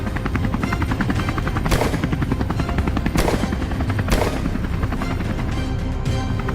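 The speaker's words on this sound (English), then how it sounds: "The sound of the helicopter immediately alerts the boars to danger," Helicopter flying low over cornfields in Georgia while hunting wild boars, its loud steady rotor roar constant throughout, punctuated by a few sharp gunshot cracks.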